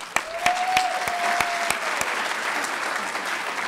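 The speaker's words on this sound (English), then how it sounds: "We could give them a round of applause." A crowd applauds steadily, a dense wash of clapping with a few sharper claps standing out and a brief whistle near the start.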